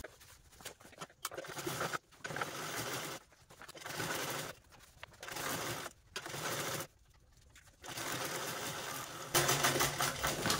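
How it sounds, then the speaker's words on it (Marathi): A sewing machine stitches a blouse piece along a zip section, its motor whirring in several close bursts separated by short pauses. "तर अशा प्रकारे आपण इकडच्या साईडने पण स्टिच करून घेतलेले आहे"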